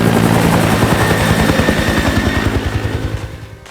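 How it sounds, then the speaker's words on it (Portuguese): A helicopter thunders close by, its rotor thumping in a fast steady pulse that gradually fades as it moves away. "Naquele momento, eles avistam um helicóptero."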